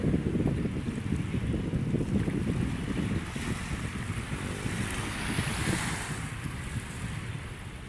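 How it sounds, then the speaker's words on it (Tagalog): Rough sea at Manila Bay, where choppy waves wash and churn continuously under gusty wind, a steady, fairly close roar with no voices. "magalaw yung ating dagat"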